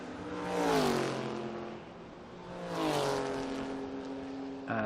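Historic endurance race cars at Estoril sweep past one after another, a Merlin overtaking a Porsche, each engine swelling loud and falling in pitch as it passes, with another car arriving at the end.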